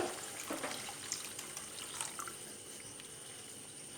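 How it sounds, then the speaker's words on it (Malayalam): About one and a half glasses of water pour into a cooking pot of vegetable soup, a faint, soft, continuous splashing trickle with no talk. "ഇനി ഇതിലേക്ക് ഒന്നര ഗ്ലാസ് വെള്ളം കൂടി ചേർത്ത് കൊടുക്കുന്നുണ്ട്"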